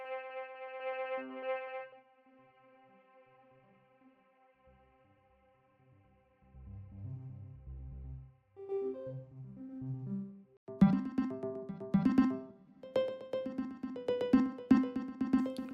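Soundiron Sonespheres Limitless synth patch "Depths," a sustained bright chord fading into low murky rumbles and tones, then heavily effected, distorted and echoing plucked notes bursting in, played alone without speech.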